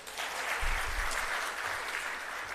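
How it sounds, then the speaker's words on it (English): Graduates of a public service leadership fellowship clapping for themselves at their graduation ceremony, a short, even burst of applause with a few low thumps underneath. "Please clap for yourselves."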